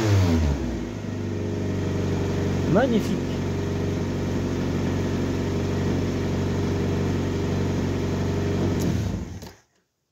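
A Citroën BX 14 petrol engine runs steadily at idle with a brief rise in revs, a continuous close mechanical hum that cuts off near the end; a voice speaks briefly over it.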